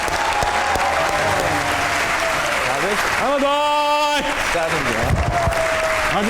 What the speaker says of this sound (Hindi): आपकी भरपूर तालियों में उमैद आसिफ और अहमद शहजाद।